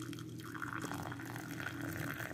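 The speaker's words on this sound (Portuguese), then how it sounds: "agora eu vou completar com água, uma xícara" Hot water poured steadily into a cup over chopped green pariri leaves, a continuous close splashing, filling sound that runs the whole time without pause.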